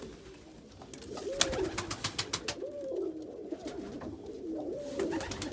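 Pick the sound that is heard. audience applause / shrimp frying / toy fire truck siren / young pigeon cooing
young pigeon cooing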